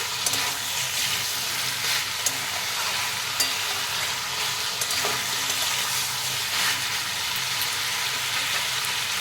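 Chicken and potato pieces fry steadily in a hot pan, a dense, even sizzle with crackling pops throughout and no voices.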